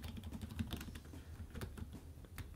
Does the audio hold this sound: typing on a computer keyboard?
yes